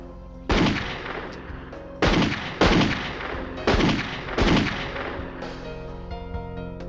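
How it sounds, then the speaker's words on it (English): Five loud gunshots fired close by, spaced roughly a second apart, each a sharp crack with a short decaying tail, followed by quiet. "What you shooting for?"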